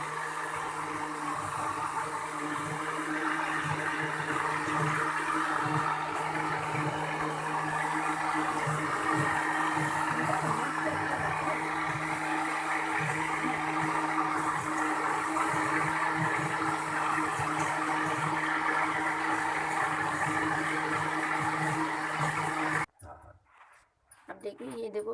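A juicer-grinder jar churns cream into homemade butter with a continuous, droning motor whir that runs steadily for over twenty seconds before abruptly cutting off.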